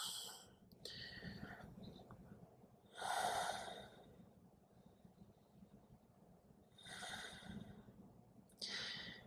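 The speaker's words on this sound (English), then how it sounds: "Let's take 3 breaths here." Slow breaths held in a yoga plank pose: a few soft, drawn-out breathing sounds, spaced several seconds apart, faint and close in an otherwise quiet room.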